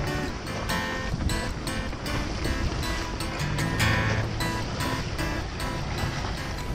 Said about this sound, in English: We're sailing.